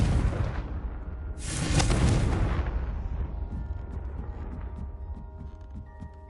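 A Confringo blasting curse in a Harry Potter game erupts in one loud, booming explosion that bursts out, then rolls away into a long fading rumble with scattered debris clatter.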